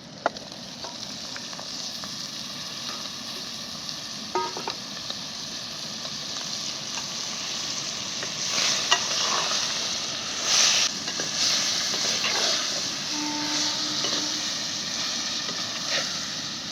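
Vajri (tripe) with garam masala and salt being stirred and fried in a pan: a continuous hiss of sizzling fat with occasional clinks and scrapes of the spatula, close up and without talk.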